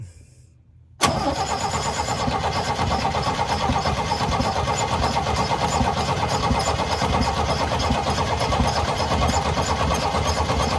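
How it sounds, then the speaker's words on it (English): A 1972 Chevy C10 engine catches after a brief quiet moment, then settles into a loud, steady running drone with a constant, rapid mechanical chatter. It stays close and continuous for about ten seconds, and nobody talks over it. "So now we're going to turn it over and see if she'll fill the carburetor bowl up"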